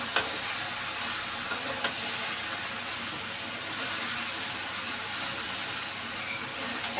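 Young jackfruit and prawns sauté in oil in a pan, sizzling and hissing steadily at close range, with a few sharp clicks of a utensil scraping and stirring.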